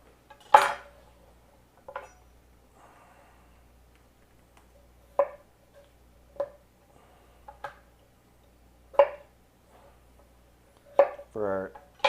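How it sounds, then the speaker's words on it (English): A knife works through two small potatoes on a cutting board in a home kitchen, giving a handful of sharp, separate knocks and clacks spaced seconds apart against quiet, with a brief voice near the end. "I'm using 2 pretty small potatoes. So I'm just going to cut them into quarters."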